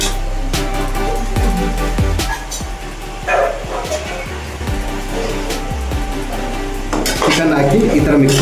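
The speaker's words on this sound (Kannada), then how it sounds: "ಚಿಕನ್ ಹಾಕಿ ಈ ಥರ ಮಿಕ್ಸ್ ಮಾಡಬೇಕು" A spoon scrapes and clanks repeatedly in a pan as 2 kg of washed chicken is mixed into a hot tempering for spicy Guntur chicken, with a steady sizzle underneath and the strokes coming in an uneven rhythm.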